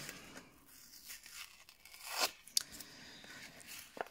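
Paper tearing in short crackly bursts, faint and close, with a couple of louder rips and quiet rustling between.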